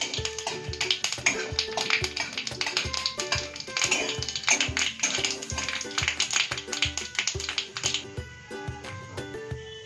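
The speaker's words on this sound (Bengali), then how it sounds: "ফোড়নের জন্য দিচ্ছি 2টো শুকনো লঙ্কা আর একটু কালো সর্ষে" Two dried red chillies and black mustard seeds sizzle and pop in hot oil for a Bengali sour dal. Sharp crackling snaps sound close and fairly loud under steady background music, with no talking.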